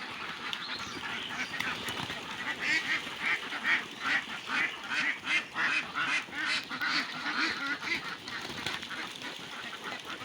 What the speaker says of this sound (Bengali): দেখেন আমার হাঁসগুলো সবগুলো আস্তে আস্তে বেরোয় যাইতেছে